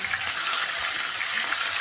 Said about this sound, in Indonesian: Ini mau kita angkat, terus kita mau goreng lagi sisanya.